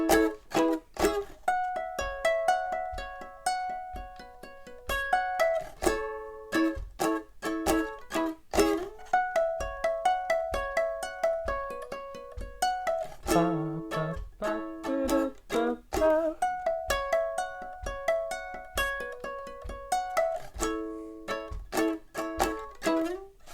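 Ukulele plucks out a song's riff slowly, a solo instrument picking distinct, clear notes in a steady rhythm with occasional strummed chords, up close and without voices.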